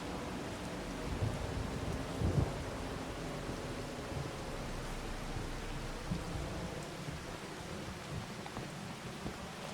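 Steady rain on a farm with low rumbles of thunder, a dense continuous wash at moderate level with a slightly heavier surge partway through.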